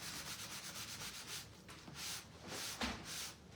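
A craft sponge rubbing over fresh paint to smooth it, giving soft repeated scuffing strokes in a steady back-and-forth rhythm, close and fairly quiet with no voices.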